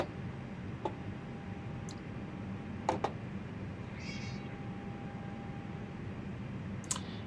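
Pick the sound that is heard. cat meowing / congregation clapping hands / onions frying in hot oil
cat meowing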